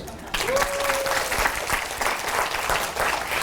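An audience at a CEO lecture applauds, a dense steady patter of many hands clapping that carries on for a few seconds with a faint voice underneath.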